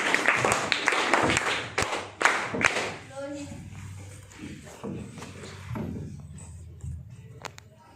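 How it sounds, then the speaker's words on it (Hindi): A school audience claps at a student prayer-song activity: a dense burst of applause fills the first three seconds, then fades as a voice begins speaking over a quieter room. "एक बार तालियां बजाइए।"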